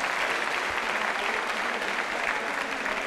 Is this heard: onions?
no